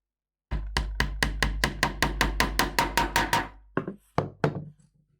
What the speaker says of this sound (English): And all we do then is just put a pin